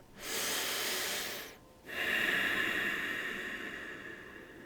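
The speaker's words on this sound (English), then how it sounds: "close my eyes, and take a deep breath" One slow, deep breath drawn in through the nose and let out again during seated meditation, a close airy hiss with a short pause between inhale and exhale.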